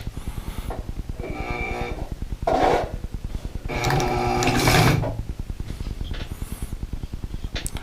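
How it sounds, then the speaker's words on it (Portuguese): A domestic sewing machine stitching in reverse gives a steady, rapid mechanical ticking, with a couple of louder whirring bursts partway through, close and alone. "esse aqui é um botão de retrocesso, que a máquina costura para trás"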